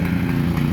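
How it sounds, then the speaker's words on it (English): Steady low idle of a rototiller's small engine, one that needs a carburetor rebuild, running close by and alone with no talk. "That's Dad's rototiller."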